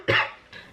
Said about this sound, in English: It's mainly just, so far, a dry cough.